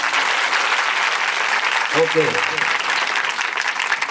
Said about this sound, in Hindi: उस यीशु मसीह के लिए एक बार जोरदार ताली बजाएं